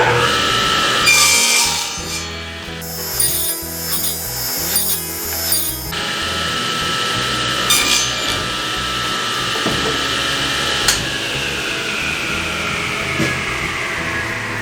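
Power-tool cutting of a shouldered tenon in black walnut for a dog bowl stand, a loud continuous buzzing whine with a harsher stretch early on, then steadier cutting.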